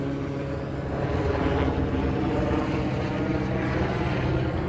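A helicopter flies overhead above Montclair, California, its rotor and engine producing a steady, loud, droning thrum that holds evenly throughout.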